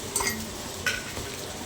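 Chicken pakodi batter being mixed with finely chopped green chillies in a bowl, giving a few light clinks and soft scraping stirs, close and fairly quiet with no talking.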